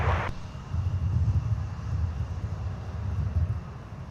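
A fixed-wing Amazon Prime Air cargo plane arrives at Minneapolis–Saint Paul airport, its engines a steady, moderately loud low rumble with wind buffeting throughout, after a brief hiss at the start.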